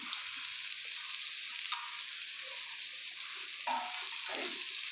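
Carrots, beans and tomato sautéing in a pan give off a constant bright sizzle, with a few soft stirring knocks and scrapes heard up close and no talking.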